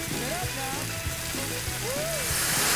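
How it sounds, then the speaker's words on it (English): Wine hits a hot pan of mushrooms with a loud, steady hiss and crackle, close by, with faint clinks and background chatter under the sizzle. "we're gonna put some wine in that"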